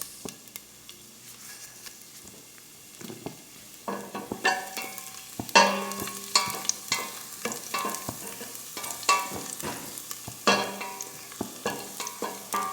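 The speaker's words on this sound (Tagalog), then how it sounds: "So guys, mainit na yung ating ating olive oil. So, igigisa na natin siya guys." Sautéing in hot olive oil in a pan, starting quiet and then breaking into loud crackling sizzle with rapid spatula stirring clatter and scraping, close and busy, no talking.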